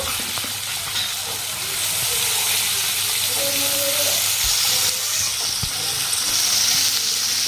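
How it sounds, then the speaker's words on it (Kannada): Green peas frying with spice masala in a pan for aloo samosa pockets, a loud steady sizzle and hiss with occasional stirring scrapes, running almost without talk. "ಈ ಮಸಾಲೆ ಜೊತೆ ಈಗ ವಟಾಣಿ ನೋಡ್ರಿ ಒಂದ್ ಸ್ವಲ್ಪ ಸಲಸೆಗೆ ಫ್ರೈ ಮಾಡ್ಕೊಂಡ್ರಿ"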